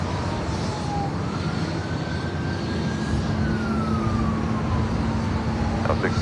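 A Delta airliner departing Los Angeles International Airport, its jet engines roaring loud and steady with a slowly shifting whine, heard from nearby on the ground.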